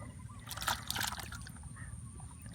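Water flowing through a fish trap set in a stream: a soft, fairly faint trickle and light splashing, with a few brighter splashes early on over a low murmur of background noise.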